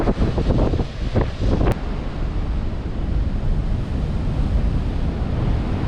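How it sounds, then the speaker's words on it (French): Storm surf driven by a hurricane pounds a harbour breakwater and beach in the Azores, a loud, continuous roar of breaking waves mixed with gusting wind buffeting the microphone, with heavier crashes in the opening seconds. "Les vagues viennent s'éclater là."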